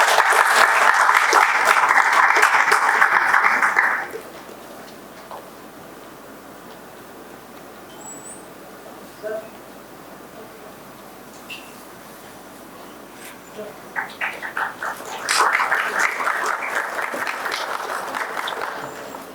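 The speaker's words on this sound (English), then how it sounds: "Let's have a huge round of applause." Audience applause greets a guest speaker at an artificial intelligence symposium: a loud burst of clapping that fades after about four seconds, a quiet stretch with scattered claps, then a second wave of applause that swells again near the end.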